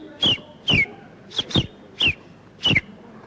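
A man imitating a sparrow call with his voice gives five short chirps in an irregular rhythm, each a bright falling note, close and clear against a quiet background.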